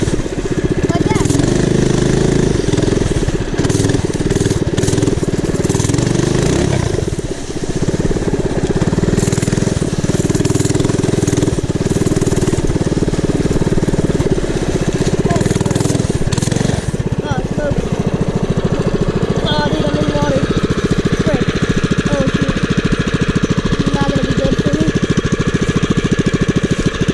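A mini bike engine revs hard and steady during a stand-up burnout in leaves, a loud, continuous buzzing roar that stays close throughout with brief dips in pitch, and a voice can be heard over it.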